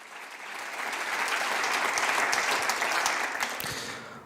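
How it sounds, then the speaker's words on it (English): Warm audience applause welcoming a guest at a public talk, many hands clapping together in a dense, sustained wash that swells slightly and then eases off. "So please welcome her with a warm hand of applause"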